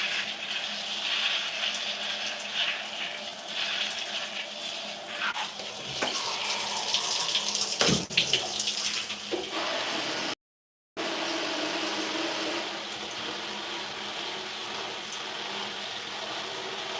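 Tap water runs steadily for wetting hair during a wash-and-go routine, a loud continuous hiss and splash with small splashy shifts, a brief cut to silence near the middle, and no voices.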